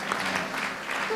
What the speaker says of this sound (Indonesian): tepuk tangan dulu saudara